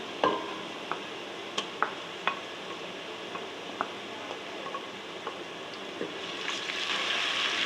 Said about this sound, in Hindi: अभी इसमें लहसुन अदरक का पेस्ट डालूंगी मैं।